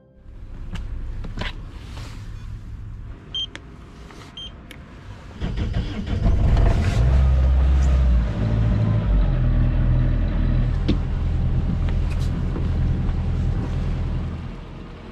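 Old Tessie, an old engine on a cold January morning along the Norwegian coast, cranks briefly and then catches into a loud, deep, steady rumbling idle that runs on, close and alone.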